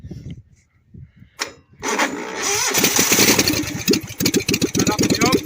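A small engine on an Evans Simplicity garden tractor cranks and fires with the choke on, catching after a few pulls into a rough, loud, close running chug, with voices around it.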